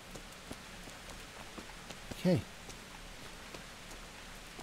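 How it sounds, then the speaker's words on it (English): Steady soft patter of rain falling in the medieval video game Kingdom Come: Deliverance, with scattered drips and taps, as someone briefly speaks over it partway through. "It's raining."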